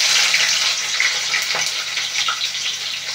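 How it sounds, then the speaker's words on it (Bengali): Cauliflower fries in hot oil in a kadai, giving a close, continuous sizzle with bubbling crackles and an occasional stir, with no one talking. "এবার কপিটাকে একটু ভালো করে ভেজে নেব"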